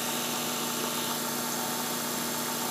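A Work Sharp belt sharpener runs steadily on a chef knife, giving a constant close motor whir with belt hiss and no breaks.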